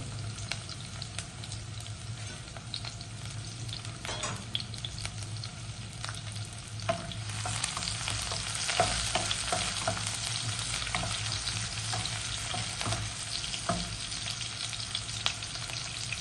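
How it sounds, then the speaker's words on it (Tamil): Chopped shallots sauté in a hot pan for a Chettinad quail pepper fry, a continuous close sizzle with occasional stirring scrapes and clinks, no talking. "இது நல்லா வதக்கிக்கங்க"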